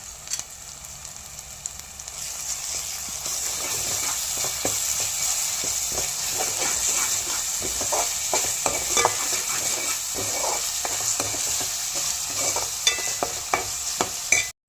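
Onion paste with ginger-garlic paste fries in a pan for a chicken dish, a steady close sizzle with repeated scraping and stirring strokes building through the middle, no voices.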